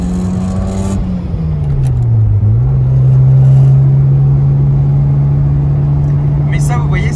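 A Mazda RX-7 FD3S rotary engine struggling at first, then climbing in pitch and settling into a loud, steady high-revving drone close by once past 4000 rpm.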